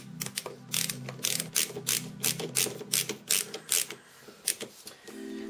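Screws being driven by hand into a PC hard drive cage, giving a run of quick, close metallic ratcheting clicks in an irregular rhythm with no talk.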